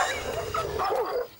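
A dog whimpers and yips in distress after a snake spits venom into its eyes, a run of high, wavering whines and short cries, close and fairly loud.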